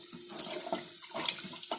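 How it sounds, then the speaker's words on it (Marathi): Water pours into a pot for Konkani-style amti, a short, uneven splashing gurgle that comes in several spurts. "म्हणजे आपल्याला जेवढी आमटी पाहिजे असेल ना तेवढं पाणी ओतायचं"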